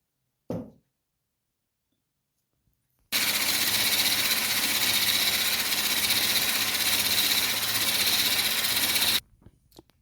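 An electric mixer beats cottage cheese pie batter in a bowl, a loud steady whirring drone that starts abruptly after a short silence, runs for about six seconds and cuts off sharply.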